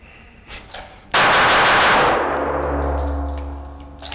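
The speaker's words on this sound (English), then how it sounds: "I'm going to fire 5 rounds every single time that I shoot the gun." A handgun fires a rapid string of shots on an outdoor shooting range, loud and sharp, with the final report ringing out into a long fading echo.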